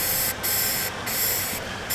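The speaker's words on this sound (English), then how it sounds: "Paint the barrel assembly here." Short hissing bursts of spray paint coat the barrel assembly of an E-11 blaster replica, three quick passes separated by brief pauses, close and steady.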